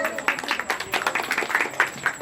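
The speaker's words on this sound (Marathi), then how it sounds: "जोरदार टाळ्या झाल्या पाहिजे." A small audience at a Navratri gathering claps in scattered, uneven bursts, the individual claps distinct and fairly close, over a faint room hum.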